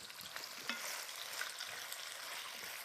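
Bell peppers for a Hungarian ratatouille sauté in a pan, giving a soft, continuous sizzle with faint stirring that stays quiet and even throughout, with no talking.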